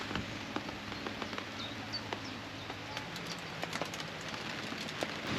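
Rain falling on a narrowboat, a steady close patter with scattered sharper drops tapping the roof over a soft continuous hiss.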